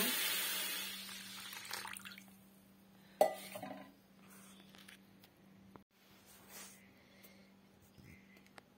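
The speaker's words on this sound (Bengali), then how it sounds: "পানি দিয়ে এখন সেটাকে ভালোভাবে ধুয়ে নিব।" Fried mung dal is rinsed under running water: an opening rush of water into a pot, then a sharp metallic knock of the vessel, quieter sloshing and swirling, with a low steady hum in the background.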